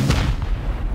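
Gunfire in a base-raiding video game, a heavy booming shot at the start followed by a dense, rumbling low-end barrage that stays loud throughout.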